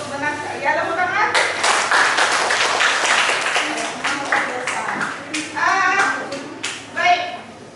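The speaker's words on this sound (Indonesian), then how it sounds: "Ya, tepuk tangan." A classroom of children claps hands together, a burst of uneven clapping that fades into scattered claps, with kids' voices chattering over it.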